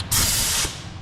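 An air gun blasts compressed air over parts from a Ford 6.7L Powerstroke engine being cleaned for a rebuild, a single loud hissing burst of about half a second that cuts off sharply into quiet.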